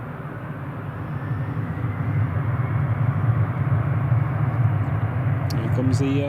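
A KLM airliner takes off at Newcastle International Airport. Its deep engine roar builds gradually and holds as a broad, steady rumble heard from a distance.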